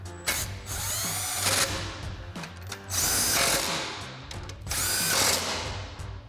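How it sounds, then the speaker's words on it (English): An impact wrench fitted with a 15 mm socket drives bolts on a 2019-2021 Silverado 1500 front bumper, firing three loud, close bursts of rapid hammering, each about a second or more long, with short pauses between them. "tighten those down using our 15 millimeter socket on our impact"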